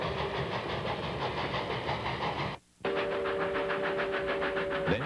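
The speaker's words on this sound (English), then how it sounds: "The train crosses the Valley Forge Trestle spanning the Doe River between Elizabethton and" Tweetsie narrow-gauge train number 12 rumbles across the Valley Forge Trestle over the Doe River, a continuous steady roar of rolling wheels broken by a brief dropout midway, then a sustained whistle tone toward the end.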